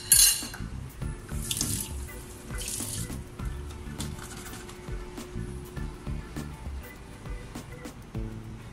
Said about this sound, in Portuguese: Vou colocar um pouco mais de água.